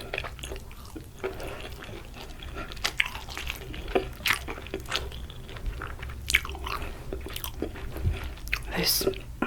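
Close, crisp bites and wet chewing of air fried vegan tofu, rice and stir fried veggies, with irregular crunches and soft mouth sounds throughout.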